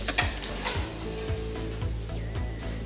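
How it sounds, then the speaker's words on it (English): Crispy pork belly skin sizzling and crackling steadily up close, a dense hiss broken by small pops, with no voices. "You can hear that, how crispy that skin is there."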